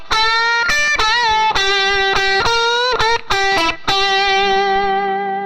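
A distorted electric guitar plays a blues lick from a song lesson, a string of picked notes with bends and a final held ringing note, loud and close with no talking.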